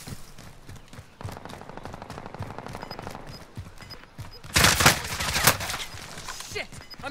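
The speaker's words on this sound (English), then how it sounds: "I'm taking fire!" Rapid automatic gunfire crackles through a video game battle, with a long burst of shots and a louder, denser flurry about two-thirds of the way through, while a voice speaks now and then.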